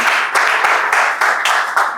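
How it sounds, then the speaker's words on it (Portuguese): Loud, steady applause from an audience at a talk introducing a gastroenterologist, many hands clapping close and continuous for the whole stretch with no voices over it. "Aplausos, por favor"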